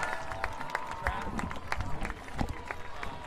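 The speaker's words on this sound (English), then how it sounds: "Let's give a final round of applause to the marching Saints." Stadium crowd applauding the Bishop Dwenger Saints marching band at a high school football game, a steady wash of clapping and cheering with sharp claps scattered throughout, heard from a distance under an announcer's voice.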